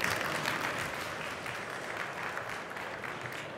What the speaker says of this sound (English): Give a huge round of applause for Silo Team.